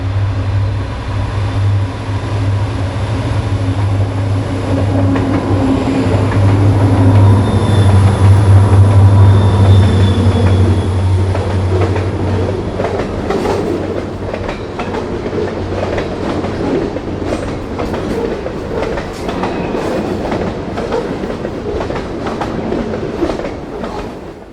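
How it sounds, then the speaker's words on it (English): Reading & Northern freight train rolling over jointed stick rail on the main line and accelerating, a loud sustained rumble with a steady low drone and rhythmic clickety-clack joint beats, with no talk. "NRFF is passing milepost 125 on the jointed stick rail of the R&N main line, accelerating to track speed."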